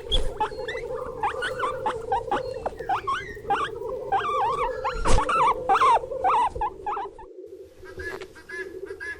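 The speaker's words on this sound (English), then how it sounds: "Guinea pig." Guinea pig squealing and chirping in rapid, wavering whistles over a continuous low rumble, close and fairly loud throughout, fading near the end.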